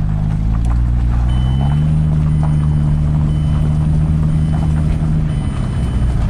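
A Mazda 6 stuck in third gear drives with a loud, steady engine drone and low rumble whose pitch climbs gradually, then holds, with no speech over it.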